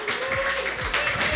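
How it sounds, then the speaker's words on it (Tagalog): A church congregation at a Christmas Eve service clapping, a short, dense burst of many hands applauding close up, with a voice and a low hum sounding through it. "Sige nga po, palakpak po tayo."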